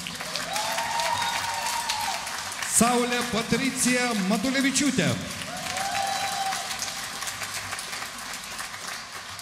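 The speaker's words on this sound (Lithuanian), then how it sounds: "Na ir jūsų aplodismentų šiandien tikrai nusipelnė ir mūsų studentai" Applause from an audience at a symphony orchestra's New Year concert, a dense steady patter of clapping that continues while a voice announces a name over it.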